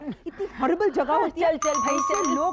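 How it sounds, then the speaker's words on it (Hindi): A two-tone electronic chime rings out over a conversation, sustained steady tones beneath ongoing speech, like a doorbell sounding indoors. "घंटी बजी है"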